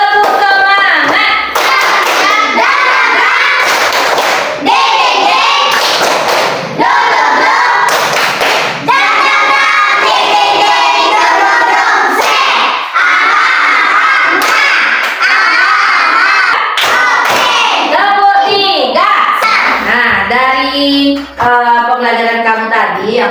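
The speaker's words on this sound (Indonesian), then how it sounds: "Tepuk semangat dulu, tepuk semangat." Classroom of primary school pupils doing a rhythmic spirit clap, sharp patterned claps in quick bursts with brief pauses, loud and close, with children's voices chanting along between the claps.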